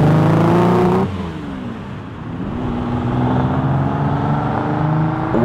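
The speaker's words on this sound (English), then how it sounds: "I think it's one of the best soundtracks of any automobile engines that's produced." A Ferrari 250 GT Lusso with a carbureted V12 engine revs loudly up close, its pitch dropping as the throttle closes and then climbing again in a smooth, steady rise.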